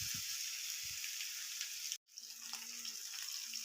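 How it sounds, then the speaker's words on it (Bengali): Onion paste with kohlrabi and potato frying in hot oil for a Bengali fish curry, a steady close sizzle with light stirring clinks and a brief break midway. "ওই তেলের মধ্যে দিয়েই ভালো করে ভেজে নিচ্ছি"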